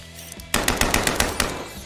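Rapid bursts of assault rifle fire from the video game Kill It with Fire, about ten loud, closely spaced shots in a steady rhythm following a short lull of quieter game ambience.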